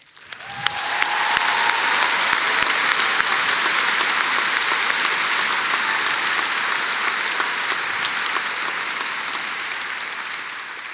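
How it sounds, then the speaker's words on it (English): A large audience at the Canva Create event bursts into loud, dense applause for the event team, swelling quickly and holding as a sustained roar of clapping for around ten seconds before easing slightly. "can I get a round of applause for the incredible team behind today?"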